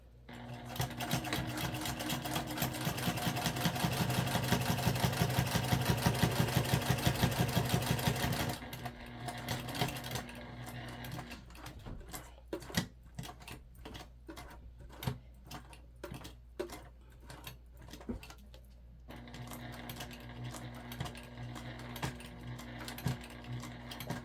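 A sewing machine stitches the top side of a crossbody bag, first a long continuous fast run, then short stop-start bursts of rapid needle clatter, close and alone without talk.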